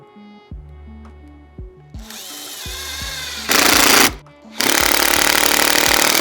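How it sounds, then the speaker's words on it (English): A handheld power driver runs self-tapping screws into slightly undersized holes in a printed circuit board, giving short bursts of close motor whine and grinding that swell into louder, sustained drilling. "For the PCB, I use self-tapping screws to enlarge the holes since I've designed it a little bit too small."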